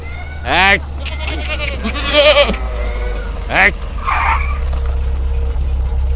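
Several loud, wavering goat bleats close by, with a voice speaking briefly between them over a low background rumble.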